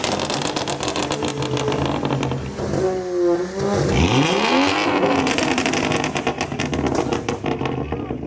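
Modified cars pull away from a car meet, engines revving hard and one sweeping close past with a rising then falling roar, amid a constant loud drone of other exhaust and traffic.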